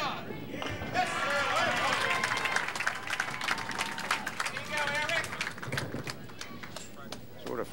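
Spectators at a 1992 boys' national duckpin bowling match cheer and clap in a sustained wash of applause and crowd noise, with a commentator talking over it.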